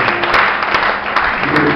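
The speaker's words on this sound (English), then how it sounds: "Can you clap your hands and give God praise?" A church congregation claps in praise, loud close clapping from many hands with voices mixed in and a few sharp louder claps standing out.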